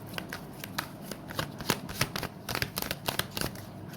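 Tarot cards are shuffled by hand close up, a rapid run of crisp papery riffles and flicks in uneven bursts, with no voices.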